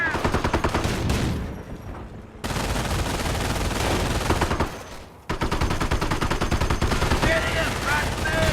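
Dense gunfire crackles through a video game firefight in Company of Heroes, rapid machine-gun bursts and rifle shots layered with explosions, loud and continuous apart from two brief dips.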